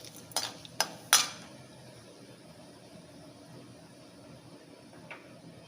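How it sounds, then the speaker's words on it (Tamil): Chana dal frying in a pan in Tamil home cooking: a few sharp utensil clinks against the pan up front, then a faint steady sizzle with one more soft clink near the end. "கொஞ்சமாக கடலைப்பருப்பு, எல்லாம் பொரியட்டும்."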